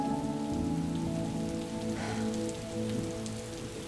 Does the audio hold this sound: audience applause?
no